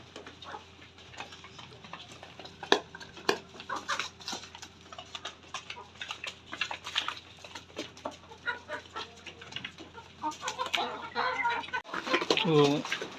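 Chicks pecking at small pieces of chopped garlic, scattered soft clucks and cheeps with light tapping of beaks, fairly close and quiet, busier chirping near the end, with a person talking over them.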